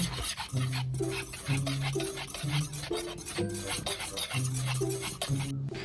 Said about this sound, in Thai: แป้งข้าวเจ้า น้ำตาลทราย เกลือป่น แล้วก็คนส่วนผสมทุกอย่างให้เข้ากัน